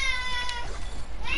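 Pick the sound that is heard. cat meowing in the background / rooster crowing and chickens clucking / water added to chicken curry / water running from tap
cat meowing in the background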